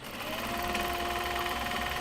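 A sewing machine runs steadily while stitching a seam tag onto a small box bag, a fast, even mechanical hum and clatter that is close and continuous.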